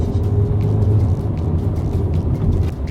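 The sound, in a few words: 2019 Ford Transit Connect van accelerating on a country road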